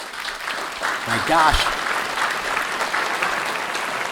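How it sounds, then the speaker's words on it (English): An audience applauds steadily for a speaker at a live MS information event, with a brief voiced exclamation rising over the clapping partway through. "I wanted everybody to give you a round of applause for speaking"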